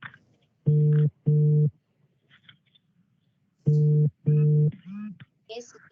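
Telephone ringing tone on a call: two paired bursts of a steady buzzing tone separated by a pause, loud and clear, with brief voice fragments between and after.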